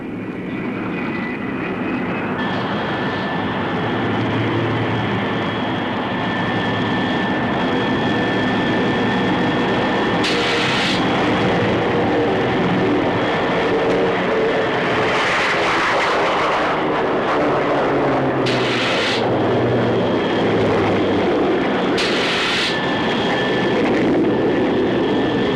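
An aircraft launched by a 100-foot hydraulic catapult in 1959 produces a loud, continuous engine roar that swells and holds for a long stretch, with a few sharp hissing bursts breaking through.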